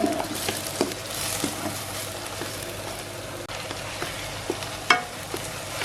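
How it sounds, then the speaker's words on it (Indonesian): Sausage and spring onion stir-fried in a pan for a potato risole filling, sizzling steadily up close with repeated scraping stirs and a sharper clatter near the end. "Kita aduk terus sampai sedikit layu."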